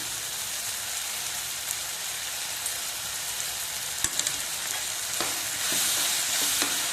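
Tomatoes fry in a pan as curry leaves are added for a chutney, giving a steady crackling sizzle throughout with a few sharper spits and pops near the end.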